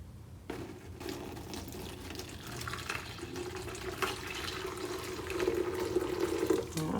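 Avocado or coffee dye liquid poured into coffee filters inside a colander set in a bowl in a sink, a soft steady trickle that starts abruptly and grows slightly louder and fuller.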